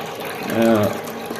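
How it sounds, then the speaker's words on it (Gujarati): A steady wash of waste water running from a pipe flows continuously, with a short voice murmuring briefly over it. "આ જે પાઇપમાંથી વેસ્ટેજ પાણી નીકળે છે"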